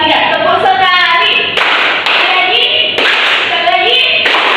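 A classroom of students claps in unison, three sharp collective claps spaced about a second and a half apart, with children's voices chattering between them.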